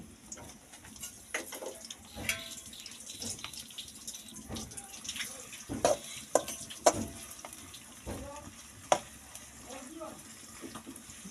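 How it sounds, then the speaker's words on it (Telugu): Green papaya curry with garlic and ginger cooking in a kadai, giving soft sizzling and scattered clinks and scrapes of stirring, fairly quiet with a few sharper knocks and no talk. "ఇప్పుడైతే బొప్పాయి వండుదాం"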